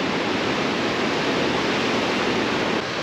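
Sea waves and surf on La Palma, heard from the top of a lighthouse, make a steady, loud, broadband wash of rushing water that fills the whole moment without pause or voices.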